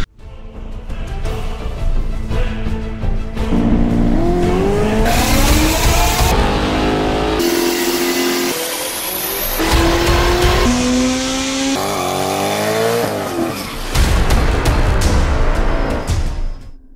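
A 2JZ-swapped Pontiac GTO with a Haltech ECU runs loud and close, its engine revving up and down in repeated rising pulls with sharp tonal sweeps, steady and alone with no talk.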